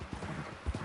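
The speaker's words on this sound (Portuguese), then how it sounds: "O cavalo já está cansado." A tired horse's hooves clip-clop along a downhill path in Red Dead Redemption 2 online, a few soft, muffled thuds in an uneven rhythm, faint and brief.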